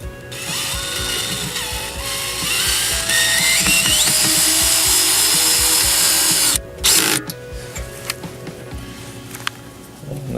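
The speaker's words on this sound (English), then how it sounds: "So now we've got our square drive bit, and we are going to install our bottom bracket." A power drill with a square drive bit drives screws through an aluminum railing bottom bracket into a pre-drilled hole, whirring up in pitch for several seconds, stopping, then giving short bursts and clicks.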